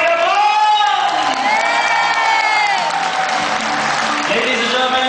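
A large crowd at a network marketing club event in Cebu applauds and cheers loudly and continuously, with whoops and shouts rising over sustained clapping.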